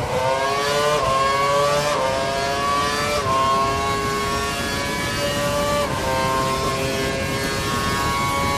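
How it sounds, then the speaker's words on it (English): Formula 1 car engine in the F1 2012 video game screaming at full revs, its high whine climbing through repeated gear changes roughly every second or two, loud and continuous with no talk over it. "He's running full revs, maximum power."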